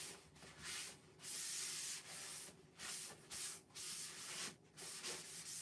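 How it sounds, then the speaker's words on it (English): Light rubbing strokes smooth a stencil down onto a surface, a soft rhythmic series of scratchy swishes repeating roughly every half second, close and faint with no talk. "I am barely pressing down on here. I just want to make sure this is smoothed out for our stencil."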